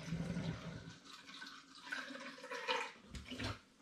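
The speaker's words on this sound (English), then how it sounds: "I'm going to continue pouring the rest of this on top of that" Coconut sparkling wine poured into a demijohn, a soft continuous gurgling splash of liquid that swells and fades, heard close and fairly quiet.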